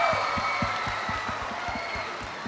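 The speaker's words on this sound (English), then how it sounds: "Give him another round of applause." Audience applause at a secondary school singing competition finals, a steady wash of clapping from a crowd with a few distinct louder claps near the front, fairly even in level throughout.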